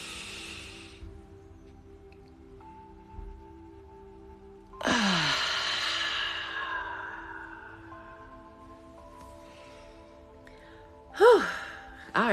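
A deep, slow breath drawn in and then released, audible as two soft airy swells during a group breathing moment, with quiet room tone and faint music underneath.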